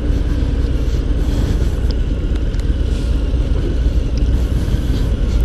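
A 2018 Harley-Davidson Fat Bob motorcycle rides in first gear, its engine giving a steady, loud low rumble throughout, mixed with constant wind buffeting at the microphone.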